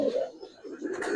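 Giribaz pigeons, silver pankhi birds, coo in soft low throaty rolls, a close continuous murmur that swells and dips over about a second, with no talk.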